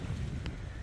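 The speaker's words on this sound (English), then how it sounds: "and of course, it's windy" Low rumbling wind from a big windstorm buffets the microphone, a constant blustery roar filling the short moment.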